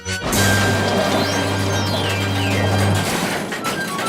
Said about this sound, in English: There was a crash. The house rocked, broken glass tinkled, plaster peppered their plates.